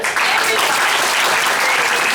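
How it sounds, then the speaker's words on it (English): Audience applause in a classroom-style debate session, steady dense clapping from a crowd filling the short stretch at even loudness, with no voices over it. "let's applaud"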